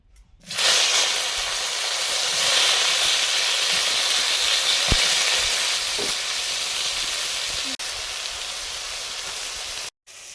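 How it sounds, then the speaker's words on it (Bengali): Steady, loud hissing sizzle of eggplant frying in mustard oil, continuous and close, with a couple of faint knocks and a brief cutoff near the end. "হালকা করে বেগুনগুলো আগে ভাজবো"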